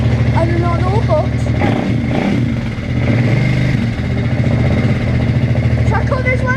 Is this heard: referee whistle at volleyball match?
no